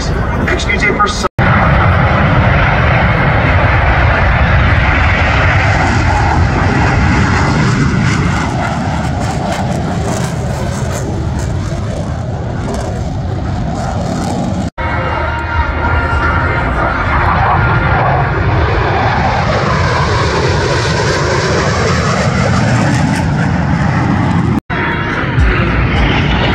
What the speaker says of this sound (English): Blue Angel number 5 will complete the dirty roll on takeoff